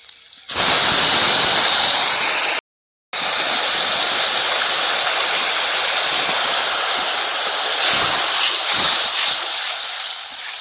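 Soaked tamarind water pours into a pan of hot oil with cracked green chillies for a Medinipur-style small-fish sour curry, making a loud, steady rushing hiss that runs on after a brief break, with no talk.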